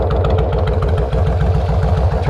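A 2002 Kawasaki Indian Drifter motorcycle engine idles up close, with a loud, even, rapid thumping pulse that holds steady and has no speech over it.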